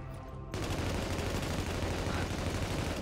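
Sustained automatic gunfire in The Division erupts after a brief quieter moment, a dense, loud, continuous rattle of shots that runs unbroken to the end.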